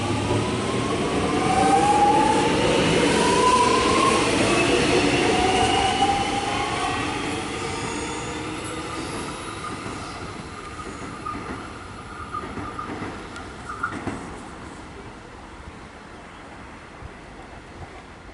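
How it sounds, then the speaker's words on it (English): A Melbourne suburban train pulls away from Mont Albert station with a broad rumbling roar and faint wheel squeal, loud at first and then slowly fading into the distance. No one speaks. "Trains now departing."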